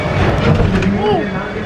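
Georgetown Loop Railroad train in Colorado pulling away, a steady rolling rumble with a brief whistle-like tone, heard under someone talking.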